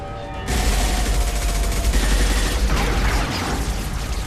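Video game gunfire on Illium in Mass Effect: after a quiet start, loud sustained bursts of automatic weapons and overlapping shots erupt, with rapid rattling fire and mechanical clatter continuing to the end.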